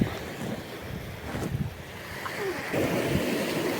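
Sea waves wash and roll in against a beach under gusty wind noise, with a surge of surf building near the end.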